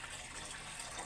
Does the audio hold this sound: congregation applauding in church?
no